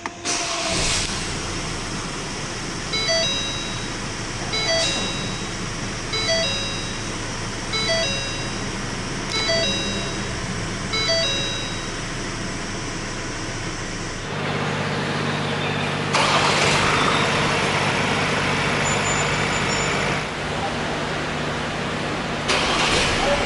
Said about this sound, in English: Put your foot on the brake and hit this engine start-stop button to fire up the engine.